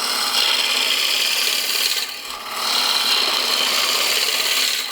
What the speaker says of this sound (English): Going to do pull cut with the gouge now